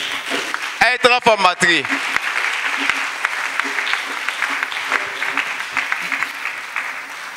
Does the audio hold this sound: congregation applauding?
yes